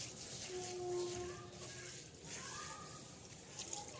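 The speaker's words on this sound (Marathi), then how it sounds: "आता ही उडदाची डाळ प्रथम आपण धुवून घेणार आहोत." Black urad dal is swished and rinsed with water in a bowl, a faint, soft sloshing and trickling that stays quiet and close, with some speech around it.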